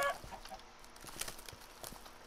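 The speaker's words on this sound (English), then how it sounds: "Chicken!" A chicken in a modded Minecraft world gives a few short, soft clucks at low volume, spaced irregularly over a faint background.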